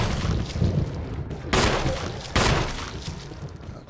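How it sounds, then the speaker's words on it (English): Gunfire in the Resident Evil HD video game, rapid heavy shots with two sharp loud blasts, dense and close with no talk over it. "Jill Valentine is gonna shoot you in the face."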